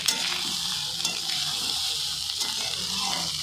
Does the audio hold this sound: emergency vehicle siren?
no